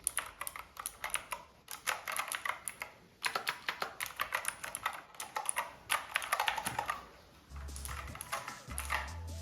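Fast bursts of typing on a full-size computer keyboard with a number pad, close and crisp with irregular clusters of keystrokes and brief pauses, then a low thumping toward the end.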